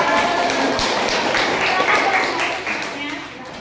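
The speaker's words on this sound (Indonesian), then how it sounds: "Tepuk tangannya dong" Students in a classroom clap their hands together, a brisk burst of applause that fades toward the end, with voices talking faintly underneath.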